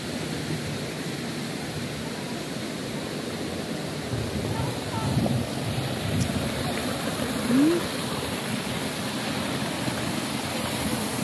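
Steady rushing water from a large stream or waterfall, a constant broadband roar filling the whole stretch with little change in level, heard outdoors on a trip home from an adventure.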